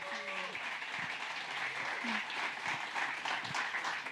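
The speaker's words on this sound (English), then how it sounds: "Please give her a big round of applause." A round of applause from the audience at a Central Oregon PubTalk business gathering, fairly quiet and steady, with some speech and brief tonal sounds mixed in.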